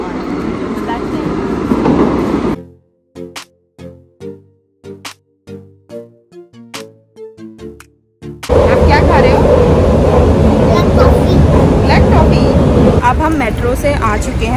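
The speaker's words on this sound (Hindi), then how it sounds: "मेट्रो आने वाली है 1 मिनट। चलो, तो मेट्रो हमारी आ गई है" A Berlin subway train arrives at the station: loud rumbling and rushing noise at the start, a stretch of brief choppy sounds, then a sustained loud roar of the train running through the rest of the clip.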